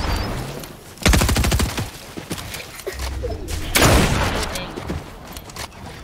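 Automatic gunfire in the Fortnite video game: two loud rapid bursts of shots with thuds between them, no talk.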